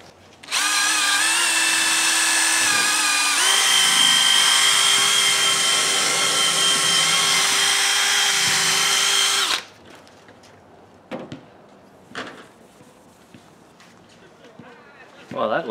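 A power drill spins a buffing pad with polishing compound against a hazy plastic car headlight, giving a loud steady whine that holds for about nine seconds, shifts pitch partway through, then cuts off, leaving faint handling noises.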